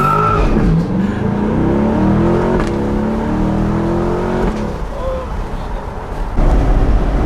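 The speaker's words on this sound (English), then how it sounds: "I'm gonna show him how launch control works" Chevrolet Corvette C8 launching hard with launch control, engine roaring as it climbs through the revs with rising tones, a gear change midway, tires scrabbling, and people shouting excitedly inside the car over the noise.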